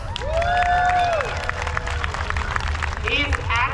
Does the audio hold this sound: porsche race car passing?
no